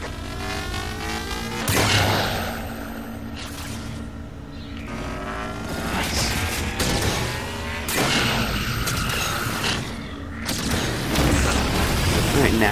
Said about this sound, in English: I'm taking control of the local defense turret.